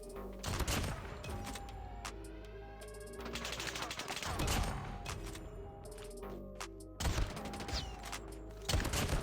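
Gunfire in COD Mobile from a Kilo Bolt Action rifle shot from the hip, with loud, sharp reports that stand out over a busy game mix of music tones and other battle noise, with several bursts spread across the stretch.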